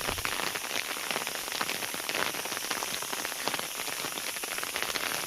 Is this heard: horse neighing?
no